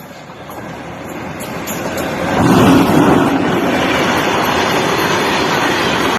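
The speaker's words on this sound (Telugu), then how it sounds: "చూసినరా, ఇదే రైలు డ్రైవర్ లేకుండా రయ్య ఉరుకుతుంది." A freight train rolls along the railway in motion with no driver aboard, a steady loud rumble of wheels on rails that swells around the middle and continues close by with faint clatter, no voices.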